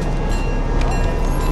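A train rolls along railroad tracks in the Fortnite video game, giving a steady, close rumble with a faint metallic clatter that runs unbroken for a moment with no talk over it.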